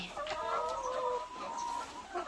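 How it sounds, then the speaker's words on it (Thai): Laying hens cluck inside the coop on an egg farm, one drawn-out, rising-and-falling cluck carrying close and clear for a couple of seconds, with no talk over it. "อันนี้แม่ไก่อยู่ในนี้"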